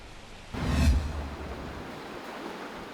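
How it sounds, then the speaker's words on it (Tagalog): A loud rush of typhoon wind gusts hard against the microphone in Baguio City, then settles into a steady roar of wind and driving rain. "patuloy pa rin ang nararanasan nating pagbuhos ng malakas na ulan at hangin dito sa Baguio City"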